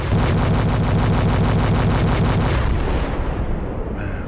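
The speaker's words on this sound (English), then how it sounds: "Man, fireworks for that," Loud rapid bursts of fireworks crackle and pop in a dense, steady barrage, then thin out into a fading rumble at the end.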